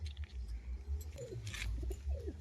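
A pigeon coos close by in soft, low rolling calls, two or three drawn-out phrases over a rumbling background.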